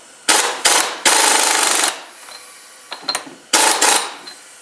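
A wrench, likely an impact gun, tightening a transfer case bolt on an NP231J to high torque, with loud rattling bursts in short repeated runs and a few brief clicks between them.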